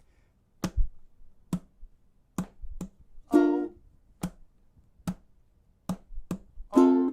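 Crisp single hand claps land at roughly even intervals in a quiet room, keeping time with a ukulele song whose strummed chords ring out between some claps, with faint singing alongside.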